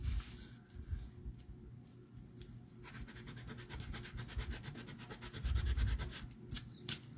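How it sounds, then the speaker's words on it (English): Eraser rubbing green drawing off a handmade Christmas card, a run of quick, close, faint scratchy strokes, rhythmic in the middle and ending with a few slower rubs, no talking. "I gotta see if I can erase that off."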